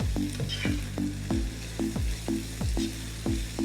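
Carrots, long beans and chopped cabbage are stir-fried in a pan for mixed fried rice, with steady sizzling and a regular run of about ten sharp scraping strokes of the spatula. No one speaks.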